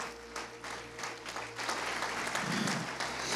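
Church congregation applauding during a sermon, a steady wash of clapping that swells louder in the second half, with a low musical hum underneath.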